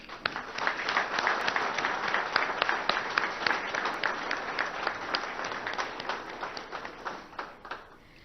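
Steady applause from a crowd at a corporate office inauguration, many hands clapping together for several seconds, then gradually thinning out toward the end.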